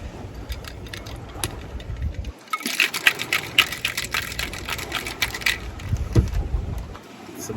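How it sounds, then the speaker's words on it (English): Cocktail shaker rattling hard with ice while mixing a Trader Vic's Sour with almond simple syrup and simple syrup, a steady loud clattering shake running for several seconds after a brief pause. "and then we'll give that a shake."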